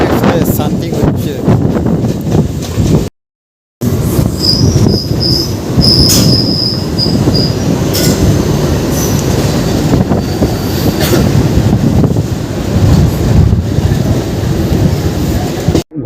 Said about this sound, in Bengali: প্রায় সঠিক টাইমে চলেছে আজকের আমাদের হাওড়া বর্ধমান সুপার লোকাল।